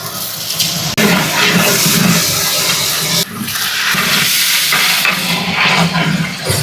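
Chicken coated with chicken masala, chilli powder, ginger-garlic paste and salt sizzles loudly in a pan while being stirred, producing a steady close frying hiss with brief scraping shifts.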